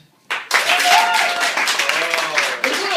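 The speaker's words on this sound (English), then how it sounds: "Round of applause" Audience at a comedy show breaks into loud, sustained applause that starts abruptly and fills the room, with a voice talking over the clapping.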